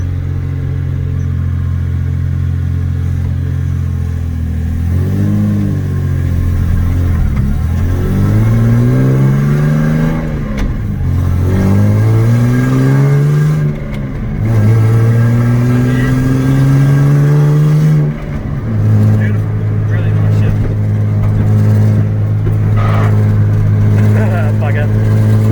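A manually converted Toyota Supra engine revs up repeatedly as gears are shifted, with rising pitch sweeps that drop back at each change and a settled cruise at the end, loud and close inside the car while people talk.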